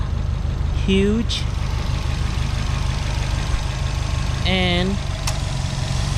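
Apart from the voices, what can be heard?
2011 Subaru Impreza WRX 2.5 liter engine idling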